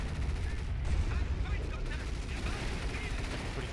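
Heavy Hummel artillery barrage in Company of Heroes, a continuous rumble of shells and gunfire rolling on without pause across the battlefield.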